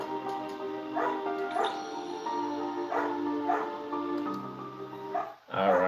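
A dog yips and barks in short repeated bursts over a steady musical background, moderately close, with a brief louder sound at the end.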